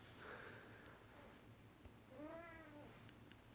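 A pet cat gives a soft, drawn-out meow near the end, with a faint breathy sound earlier, quiet and close against a low background hum; no one speaks over it.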